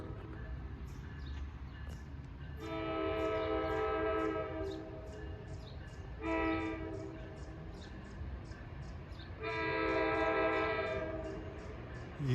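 A K5LA train horn sounds on train 1117 departing Ho-Ho-Kus station, three loud sustained chord blasts with gaps between them, over steady rumbling rail background.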